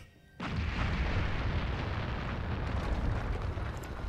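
A massive in-game explosion destroys the Well of Souls in Kingdoms of Amalur, bursting in suddenly after a quiet moment and rolling on as a loud, sustained roaring rumble.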